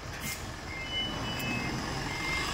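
A long bus sounds a steady run of reversing beeps while backing into a parking space on a driving course, the repeated tones ringing over a low engine rumble, with no talk.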